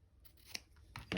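Scissors trimming a paper bag journal page, several quiet crisp snips and rustles, the last two louder and closer, with no talking.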